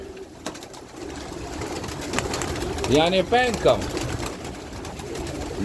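Pigeons coo in a short burst of soft, rolling calls close by, with someone speaking over ambient noise.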